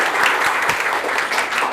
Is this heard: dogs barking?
no